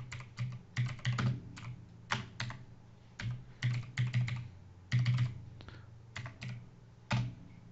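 Typing on a computer keyboard in the Windows 11 command prompt, irregular bursts of close, crisp keystrokes with brief pauses between groups, no talking.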